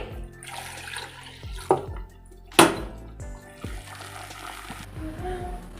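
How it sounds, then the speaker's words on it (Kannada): Water splashes and trickles into a metal pot of spiced country chicken curry in short bursts, with a couple of sharp clanks and faint kitchen clatter. "ಈಗ ನೀರು ಹಾಕ್ಕೊಂಡಿದ್ದೀನಿ"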